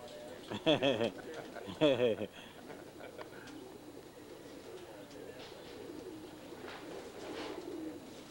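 Pigeons from a breeder's loft give two clear bursts of throaty cooing close by early on, followed by faint background bird sounds and room noise.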